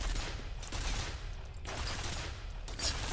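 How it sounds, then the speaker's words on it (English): Turret gunfire in the video game F.E.A.R. pours out as dense, continuous rattling bursts that fill the mix at steady loudness throughout. "The sound on the turrets is great too."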